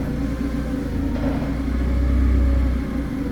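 A Clark 6,000 lb solid pneumatic forklift with a Hyundai engine runs steadily, a low rumbling idle that swells slightly near the end, close and alone with no talk.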